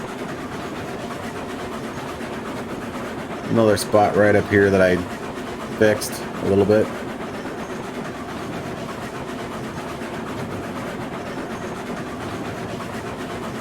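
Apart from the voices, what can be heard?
train with caboose running on track, from video game RailRoads Online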